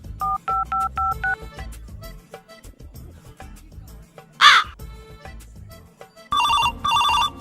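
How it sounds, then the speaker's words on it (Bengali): A telephone dialing sequence, with a quick run of short keypad tones at the start, then a loud crow-like caw midway and a couple of longer ringing bursts near the end. "তাড়াতাড়ি ফোন লাগা।"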